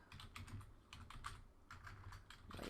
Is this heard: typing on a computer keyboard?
yes